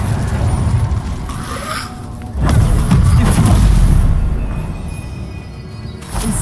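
Incendio fire spell cast in the Hogwarts Legacy video game, a loud whooshing burst of flame with booming, crackling rumble that swells, dips, then surges again over several seconds.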